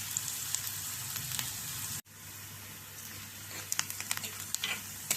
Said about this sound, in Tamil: வெங்காயம் நல்லா ப்ரௌனாக ஆகிற வரைக்கும் வதக்கிட்டு வதக்கி எடுத்துருவோம்